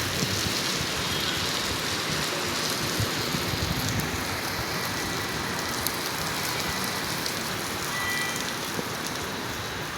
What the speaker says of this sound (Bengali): বন্ধুরা, প্রচণ্ড বৃষ্টি নামলো। দেখুন, মুহূর্তেই ছাদটা ভিজে গেল।